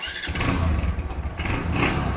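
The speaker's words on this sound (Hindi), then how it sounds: "बाइक जो है स्टार्ट हो चुकी है" A Honda CG 150 motorcycle engine cranks and catches, then settles into a steady, loud, close running rumble.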